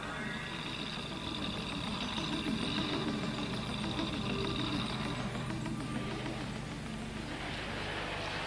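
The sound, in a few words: Land Rover engine starting and running after wading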